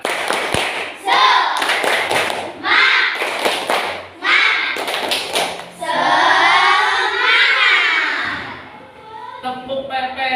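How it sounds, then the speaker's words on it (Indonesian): Schoolchildren in an Indonesian classroom do a rhythmic clapping game, short bursts of unison claps and slaps in patterned groups alternating with chanted phrases and a teacher's voice, the hand claps sharp and close. "yuk Pak Guru kita bermain tepuk tangan ya"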